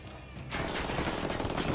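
Rapid pistol gunfire in Ghost Recon Wildlands, a dense burst of loud shots starting abruptly after a quieter moment and continuing to the end.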